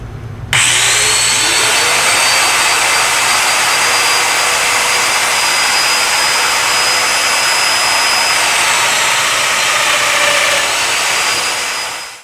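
A power tool cuts wooden table rails for an extending table, a loud, close, steady high-pitched whine that runs unbroken for about eleven seconds before winding down, no speech.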